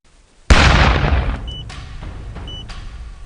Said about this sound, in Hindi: तस्वीरों में जितना बड़ा धमाका आप देख रहे हैं वो सिर्फ 200 ग्राम PETN से हुआ है।